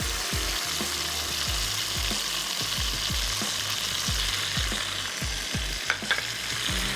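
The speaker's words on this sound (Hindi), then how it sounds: "थोड़ा सा हम इसको कुक करना है, पकाना है।" Tomato puree and ketchup sizzle in a pan for a desi masala pasta sauce, a loud continuous frying hiss with repeated stirring scrapes and clunks, no talking.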